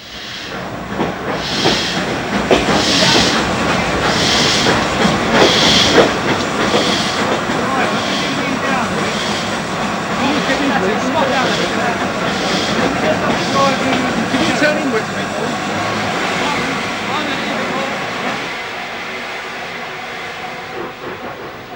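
An N2 steam locomotive moves toward a coaling stage in an old rail yard, giving a continuous loud hiss of steam with rhythmic chuffing bursts and rolling rail noise, under a narrator's voice.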